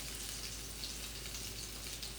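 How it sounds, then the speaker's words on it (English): Salmon croquettes sear in a pan of oil with a steady, even sizzle and faint crackles, fairly quiet and continuous with no talk over it. "I'm not frying these directly in all of that oil because I just want to sear."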